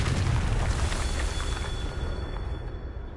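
A Confringo spell in Hogwarts Legacy goes off as one loud, heavy blast with a deep rumbling boom, fading into a rolling roar and a faint ringing tail.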